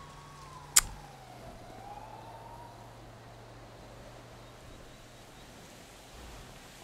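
A police siren wails faintly in a video game, its rising and falling tone sweeping for a couple of seconds beneath steady background noise, just after a sharp click.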